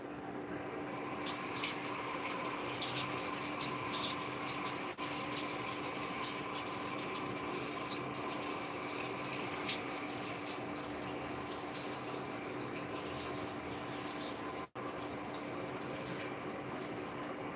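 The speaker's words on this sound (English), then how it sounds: "I'm going to wash the organic pepper and then I'm going to slice them into the sauce." Organic peppers being rinsed under a running kitchen tap, a steady continuous gush of water splashing into a sink, alone and unbroken for the whole stretch.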